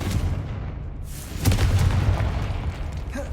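Confringo fire spell in Hogwarts Legacy: a burst that lands partway through as a heavy booming explosion with a rumbling low tail, after a softer whooshing lead-in.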